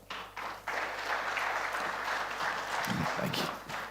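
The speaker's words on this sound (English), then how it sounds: "let's give him a round of applause and welcome onto stage." An audience claps in steady applause as a speaker is welcomed onto a conference stage, continuous and moderately distant for a few seconds.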